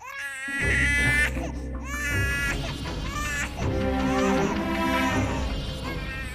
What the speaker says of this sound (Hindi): बच्चे के रोने की आवाज तो आ रही थी ना।